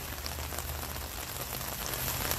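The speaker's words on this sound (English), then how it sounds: "I don't know what kind of monster makes me go out in the rain, JD." Steady rain falls outdoors at Cornell Botanic Garden, a dense, even hiss of drops on surfaces that holds at constant loudness throughout, with no voices.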